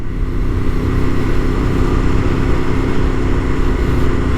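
A Ducati 848 motorcycle engine idles steadily while warming up outdoors on a cool day, a loud, continuous close-up rumble with a constant low throb and no revving.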